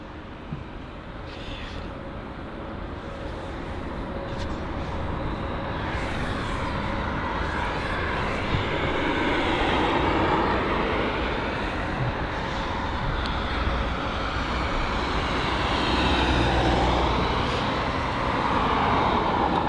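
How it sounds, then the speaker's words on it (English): A LOT Boeing 737 MAX 8 taxis at Heathrow, its engines giving a continuous, fairly loud broadband roar that swells slightly over time, with no speech. "the lot 737 MAX 8 has done a whole circle around the airport before getting to its gate area"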